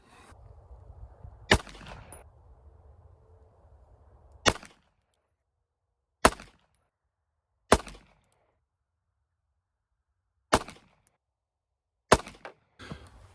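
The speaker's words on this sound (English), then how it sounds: "Let's do some shooting." Six sharp gunshots from a European-imported .380 pistol, spaced a second or more apart outdoors, each a loud isolated crack, following a short stretch of low background rumble.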